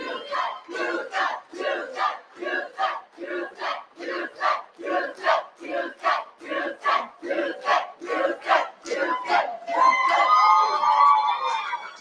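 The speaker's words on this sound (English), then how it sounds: "let's give one more round of applause to all of our" At the Texas Great Debate awards ceremony, a crowd chants and cheers in loud, rhythmic unison bursts about twice per second, then breaks into a sustained, higher whooping roar near the end.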